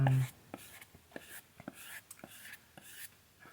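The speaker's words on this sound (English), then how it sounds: "Sound of a pencil and writing in a notebook." Pencil writing in a notebook, a soft close scratching with quick strokes and light taps at an uneven pace, quiet and alone after a brief voice at the start.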